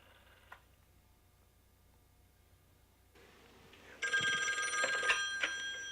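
A telephone rings with a member's daily check-in call, a bright electric bell trilling for a couple of seconds near the end after a quiet stretch.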